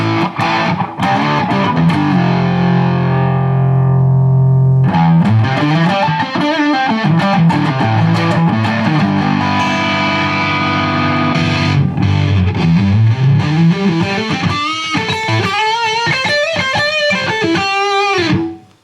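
Loud, heavily distorted electric guitar riffing through a Line 6 Spider III 75 amp, with sustained chords and busy lead lines running continuously, no voices.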